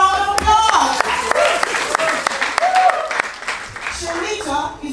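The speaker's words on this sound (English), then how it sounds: "Give Sharita a round of applause!" A crowd at a singing competition applauds a singer, steady clapping with distinct sharp claps standing out, while voices talk and call over the applause.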